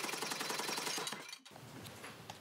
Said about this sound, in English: The heat generated by the hammer blows softens the gold leaf